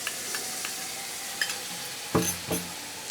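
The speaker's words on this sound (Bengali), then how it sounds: "এবার ভালো করে কষিয়ে নেব।" Spice paste mixed with water sizzling in a pan with fried onions for chicken curry, a soft continuous fry with a few sharp scraping stirs of a spoon near the end.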